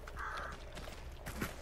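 Crows caw in the video game Hunt: Showdown, a few harsh calls at moderate distance over faint background ambience.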